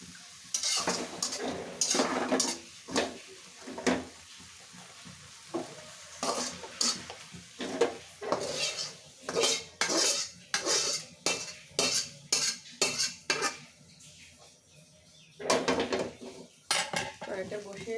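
A metal utensil repeatedly scrapes and clanks against a pan while scooping out cooked spinach, in a close series of sharp irregular scrapes with quieter pauses between.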